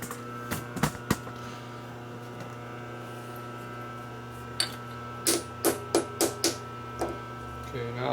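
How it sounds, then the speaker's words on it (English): A hammer taps a metal bracket in a machine shop to align it, a few sharp strikes at first and then a quick rhythmic run of five or six taps against a steady machine hum. "Tap it with a hammer to make it dead nuts."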